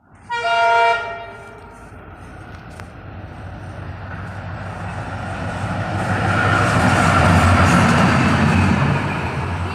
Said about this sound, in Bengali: ট্রেনও চলে গেল না ইঞ্জিন গেল? ইঞ্জিন গেল।